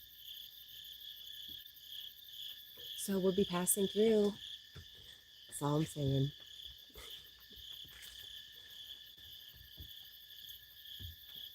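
Crickets chirp steadily through the night as a continuous high trilling bed, with a voice briefly talking over it in two short bursts.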